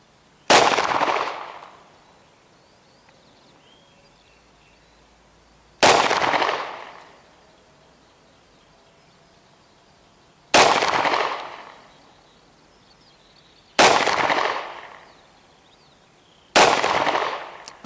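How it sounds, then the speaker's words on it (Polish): Five handgun shots fired one at a time at a shooting range, each a sharp loud crack with a short decaying tail, spaced about three to five seconds apart with quiet between them. "5 strzałów było"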